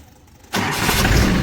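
An engine suddenly starts after near silence and settles into a loud, steady running rumble close by.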